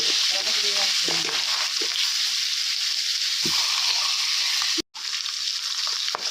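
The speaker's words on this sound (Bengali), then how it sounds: "একটু লাল লাল করে ভেজে নেব" Katla fish head frying in oil with salt, a steady close sizzle with a few stirring clanks and a brief dropout near the end.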